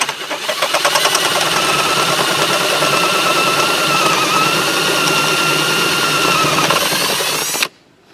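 A power drill bores a wire channel through a rifle stock, giving a loud, steady, high-pitched whine that runs unbroken for about seven seconds and then stops abruptly.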